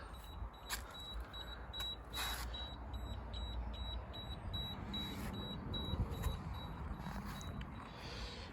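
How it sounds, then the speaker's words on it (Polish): A thin, steady high-pitched low-temperature alarm tone from a Bradley smoker sounds throughout, over low rumbling background noise and occasional faint clicks. "znowu alarm, że za niska temperatura"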